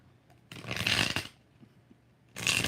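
Tarot cards being shuffled in two separate bursts, a longer crisp riffle followed by a short pause and then a second brief shuffle, close and fairly quiet.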